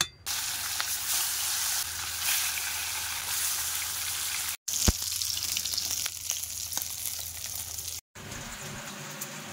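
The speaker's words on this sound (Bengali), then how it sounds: "এবারে মাছ দিয়ে দেবো।" Pieces of katla fish sizzle steadily in hot oil, a dense, continuous crackle close to the pan, briefly broken by two abrupt cuts.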